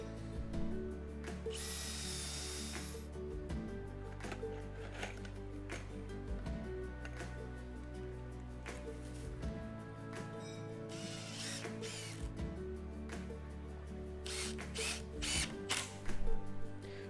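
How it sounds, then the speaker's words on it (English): A power drill whirs and revs in bursts, with ratcheting clicks and mechanical grinding as screws are driven into a wooden cedar dock frame, close and fairly loud. "pre-drill your next 2 holes and secure with screws"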